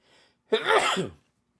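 A single sharp sneeze bursts out after a faint breathy intake, close and loud, then stops abruptly.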